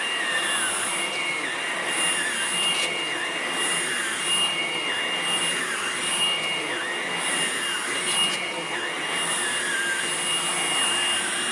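Hoover vacuum cleaner running with a brand new brush roll, giving a steady high-pitched whine and airy roar that stays even throughout, with small periodic swells and no talking.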